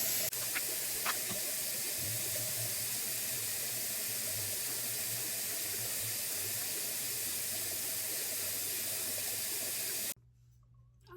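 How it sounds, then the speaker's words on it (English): Tap water runs steadily into a sink for face washing, a constant hiss that stops abruptly near the end. "Let's wash our face."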